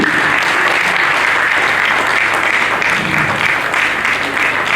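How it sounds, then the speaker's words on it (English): Loud, continuous clapping from a conference hall audience as a university vice chancellor is cheered to the podium, dense and steady throughout. "I'm sure you can clap him to the podium"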